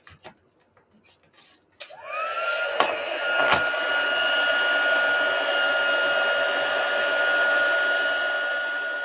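A craft heat tool switches on with a click and runs as a steady, loud blowing hum, heating embossing powder on a sparkling paper snowflake; a couple of sharp clicks sound early on, with faint talk before it starts.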